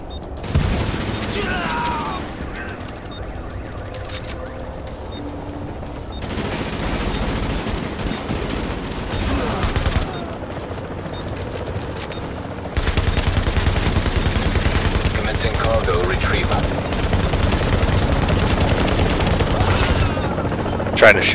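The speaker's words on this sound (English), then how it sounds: "Trying to shoot down the chopper." Sustained gunfire aimed at a helicopter in Tom Clancy's The Division, a dense rattle of automatic weapon shots with rotor and explosion noise, mixed with game sounds and talk, growing louder in the second half.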